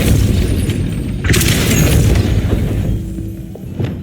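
A loud, sustained magical blast from the Depulso spell in Hogwarts Legacy, a broad roaring burst that swells midway and slowly fades, with no talk over it.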